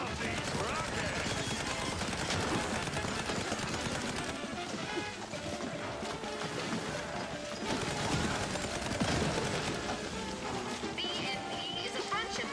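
Rapid rocket and gunfire bursts from the game Mouse: P.I. for Hire, dense and continuous throughout with loud layered explosive cracks, mixed with game music and a voice talking over the action.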